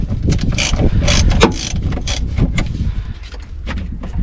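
A hand ratchet loosens the terminal nuts on the battery of a 2012 Audi S5/A5, giving a run of close, repeated mechanical clicks and metallic rattles that stay loud throughout, with no voice over them.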